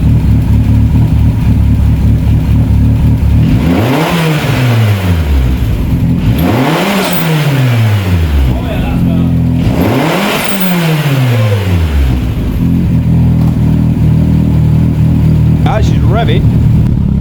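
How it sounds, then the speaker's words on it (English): A rally car's engine, recently fitted with a new throttle body and better fuel delivery, revs hard three times in a row, close and loud, each surge climbing and then falling back to idle. "let's see if it'll rev."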